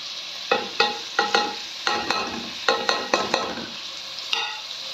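Spices hitting hot oil in a cooking pot while making yakhni pulao with garlic and ginger, heard as a steady sizzle with a series of sharp scraping stirs and clatters at an uneven rhythm, close by and with no voices.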